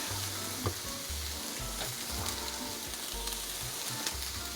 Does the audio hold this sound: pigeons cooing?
no